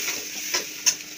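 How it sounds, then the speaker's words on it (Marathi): Chopped onion cooks in a pan for a mixed vegetable zhunka, a steady close sizzle with a couple of brief louder scrapes as it is stirred. "चांगलं पकवून घ्यायचं आहे, त्याच्यामध्ये कांदा घालायचा, पकवून घ्यायचा कांदा"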